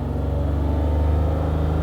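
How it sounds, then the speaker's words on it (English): A Toyota RAV4 with an ignition coil fault and misfire runs steadily, its engine giving a loud, close, even low rumble with a slight rhythmic pulse throughout. "So I'm gonna rev up the engine a little bit."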